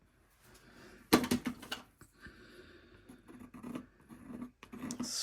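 Tool scraping back through wet texture on a mixed media landscape painting, a burst of close scratchy strokes followed by quieter intermittent scrapes and rustles.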